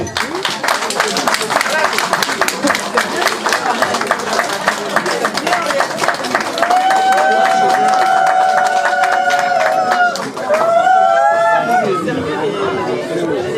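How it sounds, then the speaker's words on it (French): A crowd at a ceremony honouring a queen chatters and applauds, with dense clapping and cheering throughout and a voice speaking over the noise toward the end. "Je vous prie d'acclamer notre majesté."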